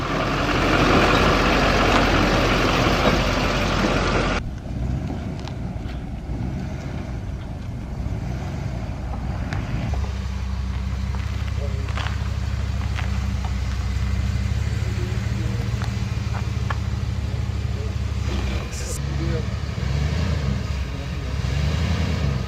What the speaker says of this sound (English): We're staging, getting the van on the trailer.